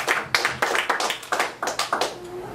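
Church congregation clapping in a rhythmic, evenly spaced beat, about a dozen sharp claps in quick succession, fairly close and with no talking.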